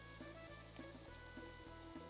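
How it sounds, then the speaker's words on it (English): Steady rain falls in modded Minecraft, a soft, even patter of drops on surfaces heard throughout at low volume, with a faint repeating tonal pulse underneath. "this rain can knock it off whenever it wants to and all"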